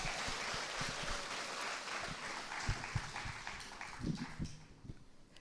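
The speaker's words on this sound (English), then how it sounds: "Give her a big round of applause." Audience applause at an International Women's Day celebration, a fairly faint, dense patter of clapping with a few louder isolated claps and some thumps as it thins out near the end.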